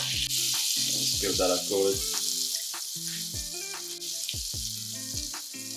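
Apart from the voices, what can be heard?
butter melting in a pan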